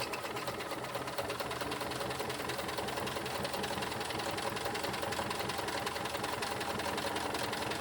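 A sewing machine stitches steadily through wax canvas for a bag, a fast, even mechanical whir and rattle that runs unbroken and fairly quiet throughout.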